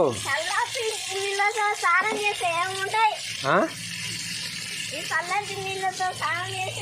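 Water splashing and running as a child washes their face, continuous trickle and splashes under an adult's instructive talking and a voice.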